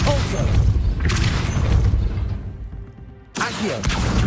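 A spell blast from Hogwarts Legacy is cast, with booming thumps and a dense, loud rumble. It drops away briefly near the end, then a sharp burst returns amid game sounds.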